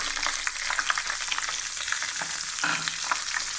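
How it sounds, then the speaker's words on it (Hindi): Cumin seeds and sliced long green chilies frying in oil and ghee for a dhaba-style masoor dal tadka crackle and spit in a steady, close sizzle with frequent sharp pops throughout. "थोड़ी सी इसमें हम कटी हुई लंबी लंबी मिर्चें ऐड करेंगे"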